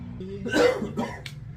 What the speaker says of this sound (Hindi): क्या हो गया, खांसी हुई क्या?